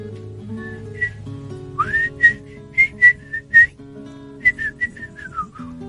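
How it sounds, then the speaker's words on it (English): Soft, breathy whistling of a few short notes and slides, sounding close and quiet over a low hum of background noise. "Can you whistle right now? Softly."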